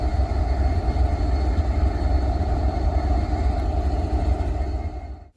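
A manifest freight train hauled by KCS locomotives rolls past close by, a loud, unbroken low rumble with wheel and car noise that holds steady before quickly fading at the end.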